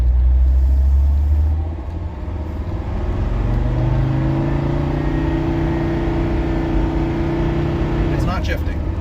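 A 1979 Mercedes, smoking badly, drives along the road with a loud, steady engine drone that dips as it shifts gear early on, then pulls on with rising revs and another brief change near the end.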